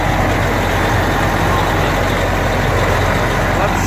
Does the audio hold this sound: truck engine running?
yes